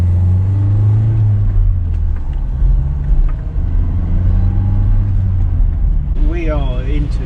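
A car pulls out of a car park and drives off along a snowy road, its engine a steady low rumble with rising revs throughout, recorded from inside the vehicle, with a brief higher tone near the end.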